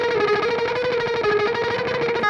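A distorted electric guitar chugs rapid, palm-muted notes in a steady, driving rhythm, loud and close with no talking.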